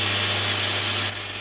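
A lathe or drill spinning on uilleann pipe parts gives a steady mechanical whir with a constant low hum, rising to a higher whine near the end of the short stretch; no talking.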